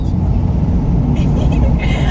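An electric Mini Cooper in sport mode accelerates hard, giving a steady low road and motor hum heard from inside the cabin, with a faint high whine rising briefly near the end and no talk over it.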